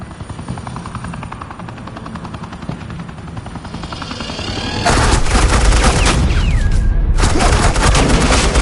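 Suppressing gunfire erupts in Batman The Enemy Within game, a loud dense burst of shots starting midway over a steady helicopter-like drone, with a brief gap before the firing resumes.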